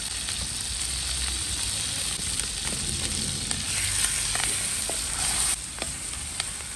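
Peppers frying and being stirred in hot oil give a steady close sizzle and hiss, with occasional scraping stir sounds running throughout and no talk.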